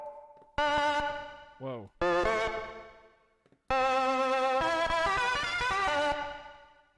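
Harsh, buzzy bit-crushed synth tones from a Woovebox with gritty harmonics play in loud bursts separated by short gaps, with a brief exclamation from a voice.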